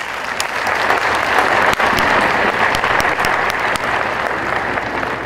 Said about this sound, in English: welcome him on stage with big applause.